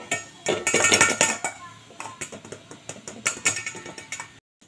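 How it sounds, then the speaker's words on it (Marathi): Gram flour (besan) being sifted for besan ladoo in a kitchen, quick rhythmic metallic tapping and rattling of a sieve against a bowl, close and fairly loud, stopping abruptly at the end. "बेसन मी चाळून घेते."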